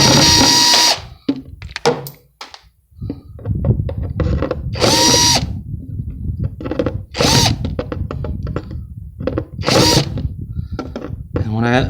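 A power driver whirs in short repeated bursts as it backs screws out of a broken 5core speaker, close and loud, with brief pauses and some voice between bursts.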